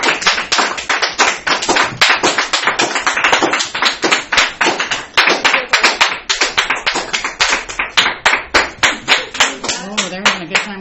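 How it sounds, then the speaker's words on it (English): Classroom students clapping during a math lesson: a long run of loud, quick, uneven hand claps from a group, close and dense, with no talk. "they're having a good time clapping today"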